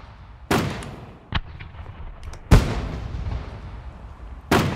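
Video game gunfire sounds as a few sharp, loud shots spaced out over several seconds, each a sudden crack with a short decaying tail against a quiet background.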